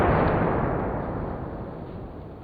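A single loud AR-15 rifle shot fired into meat and bone, a sharp outdoor blast whose echo decays over a couple of seconds with no talking.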